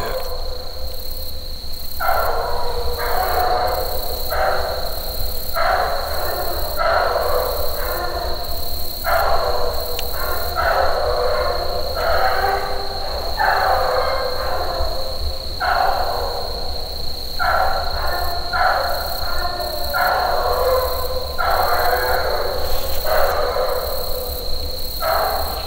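Bluetick coonhound pups bay on a night raccoon hunt, a long run of repeated, fairly distant bays in uneven bursts over a steady high insect drone.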